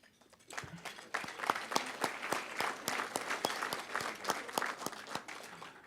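Audience applause at an annual business meeting and awards event right after a motion passes, starting sparse with a few claps then swelling into steady, dense clapping that holds to the end.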